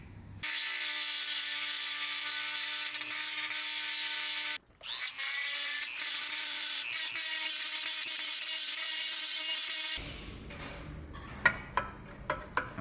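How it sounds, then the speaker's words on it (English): A power grinder cuts down a rivet holding the oil pan baffle of a turbocharged BMW M50 engine, a steady loud whine lasting about ten seconds with one brief break, followed by a few scattered clanks and taps. "The stock baffle is held in by this one rivet right here. I'm gonna grind this down"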